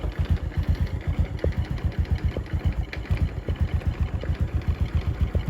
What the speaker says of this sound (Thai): เนี่ยผมบิดคันเร่งนิดเดียวออกตัวเลย